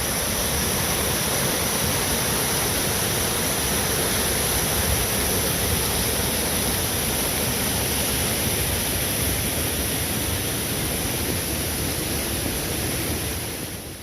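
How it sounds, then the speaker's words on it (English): A small stream spills over a pretty little waterfall along a hiking trail, giving a steady, even rush of water that holds constant throughout and fades slightly at the end, with no voices. "Boomer back again with a nice stream and a pretty little waterfall."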